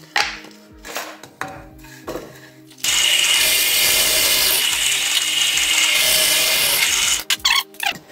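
A power drill bores holes in a homemade epoxy dryer, a few short clicks and knocks giving way to a loud continuous whirring drill run of about four seconds, then brief bursts as it stops.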